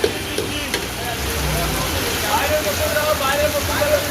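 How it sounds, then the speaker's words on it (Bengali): Heavy rain pours down steadily at a roadside eatery where chow mein is being cooked, a dense continuous hiss with scattered drips. "এত বৃষ্টি হচ্ছে ধারণার বাইরে"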